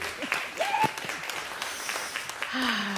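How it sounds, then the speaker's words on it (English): Scattered audience applause in a church service with a choir, soft and fairly distant clapping mixed with murmuring voices and brief cheers. "I want to applaud that."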